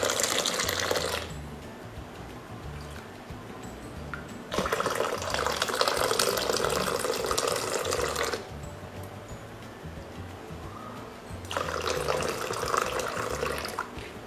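Liquid is poured from a height to froth it for setting yogurt, in three separate bursts of splashing stream, each a few seconds long and close, with quieter gaps between them.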